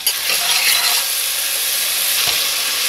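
Onions sizzle steadily in hot oil in a pan while cooking Koshary, a loud, continuous frying hiss with faint stirring scrapes throughout.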